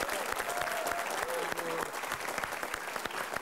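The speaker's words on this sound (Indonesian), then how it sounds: "Tepuk tangan dulu untuk kita semua" Steady studio audience applause at a TV talk show, dense clapping throughout with a faint tone and talk beneath it.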